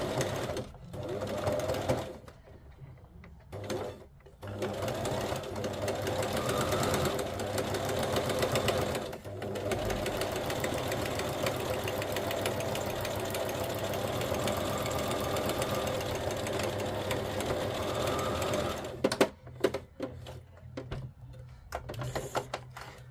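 A sewing machine running a very wide stitch over fabric scraps, whirring and rattling steadily for long stretches, with brief pauses near the start and bursts of stop-and-start stitching at the end.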